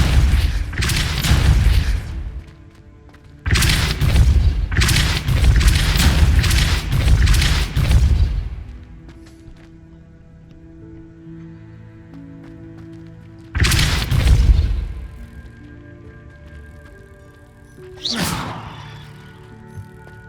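Depulso spell effects in the Hogwarts Legacy video game: loud booming blasts with whooshing bursts, several close together early, then isolated hits after quiet gaps.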